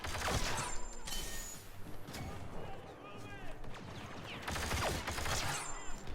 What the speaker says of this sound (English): The Officer has received the DL-18, a fast-firing pistol also featured in 2015's Battlefront, wielded by Greedo